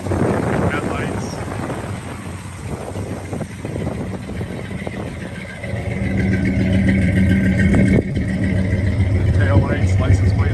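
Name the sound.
muscle car engine running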